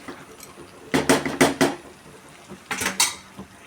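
Metal clatters in two quick bursts, a lid clanking and settling onto a pot of cashew chicken masala, close and sharp.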